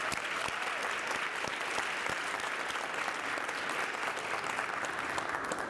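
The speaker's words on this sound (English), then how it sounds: "So let's give her another round of applause." A crowd at a college Charter Day ceremony applauds in a continuous, dense patter of many hands, heard at moderate distance and steady volume.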